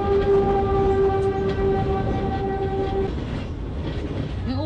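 Train rolling over elevated tracks above homes in Brgy. Aklan, Manila, loud and close with a steady rumble and clatter, a sustained horn-like tone holding for about three seconds before fading into continued rail noise.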